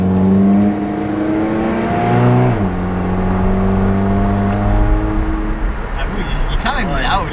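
A Ford Focus ST fitted with a Green air filter revs loudly and close by, its engine note rising and falling through repeated throttle blips, with a voice speaking briefly near the end.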